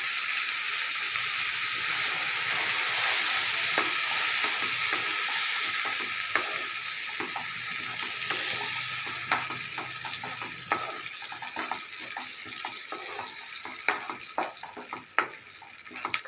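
A loud, steady sizzle of a tempering of mustard seeds and urad dal frying in a pan for beetroot carrot chutney, with scattered pops and crackles that become more distinct as the hiss eases.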